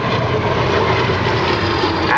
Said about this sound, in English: Straight and level right now. At over 350 miles per hour.